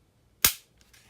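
A single sharp snap from a Polymer 80 Glock 19 as the trigger breaks, followed by a couple of faint lighter clicks as it resets.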